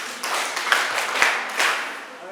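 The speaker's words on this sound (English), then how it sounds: "Clap for yourselves." Participants in a menstrual hygiene workshop clap for themselves, a short, moderately loud burst of group clapping with voices mixed in.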